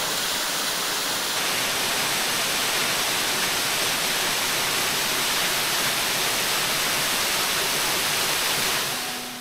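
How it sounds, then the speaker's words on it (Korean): Bulil Falls on Jirisan in Hadong, a large mountain waterfall roaring as a steady, dense wash of falling water, loud and unbroken throughout. "지리산 끝쪽이 이런 장대한 폭포가 있다는 것을 어찌 상상이나 할 수 있었을까요?"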